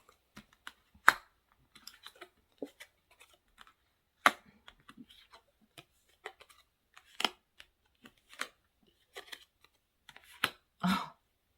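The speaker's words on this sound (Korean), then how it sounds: "카드 열어볼게요." Tarot cards are turned over and handled on a table, making a scattered series of quiet, sharp flicks and taps with a slightly longer swishing rustle at the end, all in near silence.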